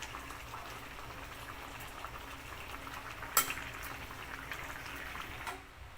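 Ginataang papaya simmering in coconut milk, a soft, steady bubbling and sizzling close by, with one brief clink of a utensil against the pot partway through.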